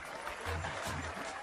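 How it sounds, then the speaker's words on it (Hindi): Crowd applauding in a Hindi-dubbed movie scene, a brief burst of steady clapping with faint voices mixed in. "तालियां बजाओ।"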